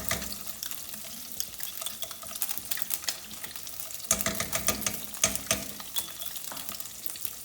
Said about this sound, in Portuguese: eu acrescento a manteiga, o alho e o tomilho e mais um pouquinho de azeite